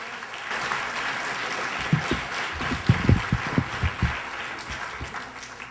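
An audience claps for Mme Monique Bastien, the fundraising campaign president. The applause is moderate and scattered, with distinct individual claps that build after a soft start and continue for several seconds.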